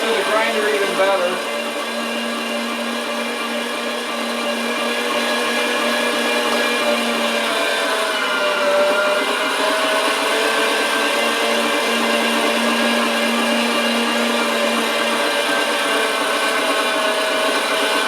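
Electric meat grinder running steadily on semi-frozen venison chunks, a constant loud motor drone with a strained tonal hum that dips and shifts as meat is fed, with a voice talking over it at times.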